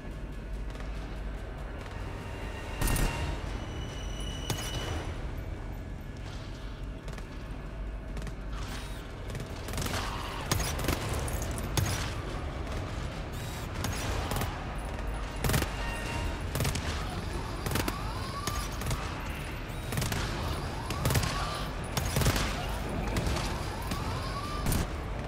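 Turret gunfire in a shooter video game, a dense, continuous rattle of shots mixed with game effects and a siren-like wail running throughout, fairly loud and steady.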